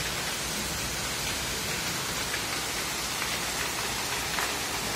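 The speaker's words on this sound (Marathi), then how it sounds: "खतरनाक पाऊस।" Heavy rain pouring down in a steady, dense hiss of drops hitting surfaces, loud and unbroken throughout with no voices.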